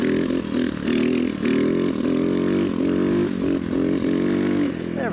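A bone-stock X Pro Storm DLX 250 dual sport motorcycle revs and accelerates hard in third gear through a clutch wheelie, its single engine note loud, close and continuous with rising pitch sweeps.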